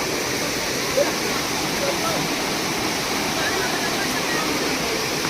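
A steady, roaring wash of water falling down a waterfall near Manudevi Mata temple in Jalgaon fills the whole stretch, constant and broadband without pauses, as light rain begins.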